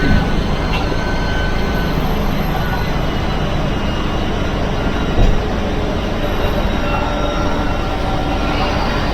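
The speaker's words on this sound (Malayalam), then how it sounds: "അപ്പോൾ ഭാരത് ബെൻസിൻ്റെ സൗണ്ടൊക്കെ നമുക്ക് കുറച്ച് അടുത്തിരുന്നിട്ട് കേൾക്കാം." Bharat Benz air bus engine droning steadily from the driver's cabin on a night run, a loud, close, continuous low rumble with road and cabin noise and no pause.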